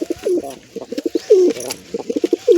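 Wild pigeons perched nearby give repeated throaty coos, rolling in quick rhythmic bursts across the whole stretch, close and clear with no talking.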